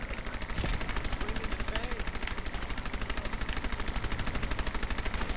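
Rapid automatic gunfire in Fallout 4 hammers out as an unbroken stream of evenly spaced shots, loud and steady from start to finish.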